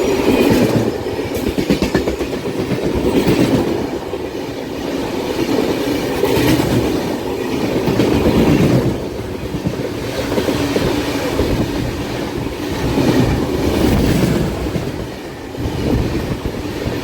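Intercity Superfast passenger train running on the coastal route near Brahmapur, heard from a window seat: a loud, steady rumble with rhythmic clickety-clack of wheels over rail joints throughout.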